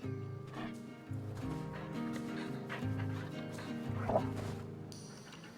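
Iggy, a big fluffy dog in the snow, lets out a run of harmonic whining barks and yowls, close and fairly loud, in uneven repeated bursts.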